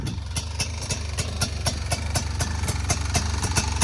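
A Honda Pilot FL400 four-wheel-drive off-road buggy idles in neutral with a steady, close, low engine rumble and fast regular pulses, running alone with no talk.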